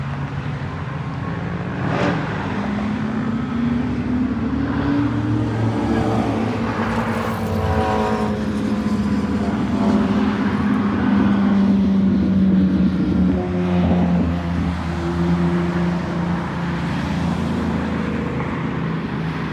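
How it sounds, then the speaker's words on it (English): A loud Porsche GT3 sports car on Woodward drives past with a steady engine roar and pitch that rises and falls as it moves, close and dominant the whole time, with some faint talk underneath. "This GT3 is coming back, and it's so freaking loud."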